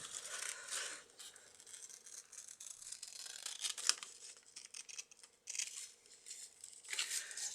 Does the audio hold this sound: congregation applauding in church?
no